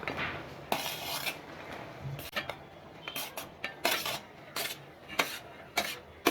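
A metal spoon scrapes and clinks against a pot or bowl while cooked rice is mixed into tamarind paste for temple-style puliyodarai, giving repeated close scraping strokes with short pauses between them.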